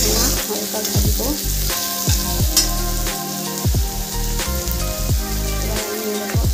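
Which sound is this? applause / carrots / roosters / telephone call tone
carrots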